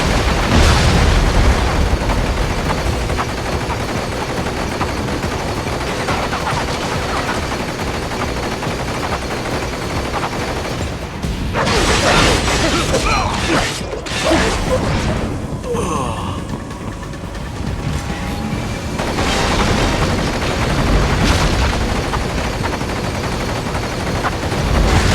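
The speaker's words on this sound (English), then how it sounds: "Firing RPG!" Rapid gunfire and booming explosions from an RPG in a stealth action video game, loud and dense throughout with dips and fresh blasts, a voice briefly audible beneath the chaos.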